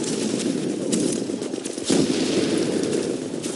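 Steady gunfire in Tom Clancy's The Division, with continuous dense crackling shots mixed into broad game noise and a sharper burst near the middle, fairly loud throughout.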